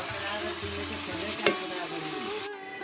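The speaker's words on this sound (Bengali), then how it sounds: "ওই জন্য প্রথমেই পনিরটা ভেজে নিচ্ছি" Paneer frying in a kadai, a dense steady sizzle with low stirring scrapes, one sharp knock midway, and the hiss dropping away abruptly near the end.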